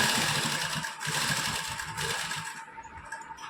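An electric sewing machine stitches cutwork lace onto the hem and sleeves of a suit with a fast, close, rhythmic whirring rattle, then slows and stops near the end, leaving faint clicks.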